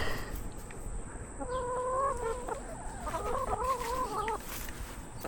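Chickens in a coop and run give a drawn-out, tonal clucking call over a constant background rustle, close by, while they peck at blueberries.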